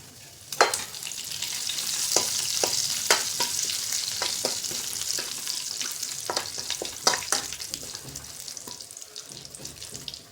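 Curry leaves and garlic frying in hot oil, a steady close sizzle broken by sharp crackles and pops as the leaves hit the pan, with no voices.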